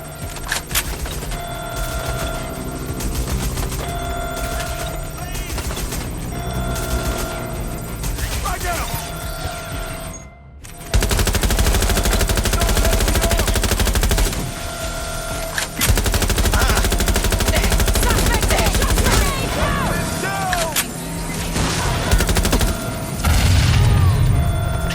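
Dense, loud gunfire rattles through a Watch Dogs: Legion shootout in rapid bursts and sustained automatic volleys, with booms and mechanical clatter, a brief drop-out midway, and voices heard amid the shooting.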